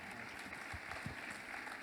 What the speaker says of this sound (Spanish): Un fuerte aplauso para este grupo de ponentes que viene ahora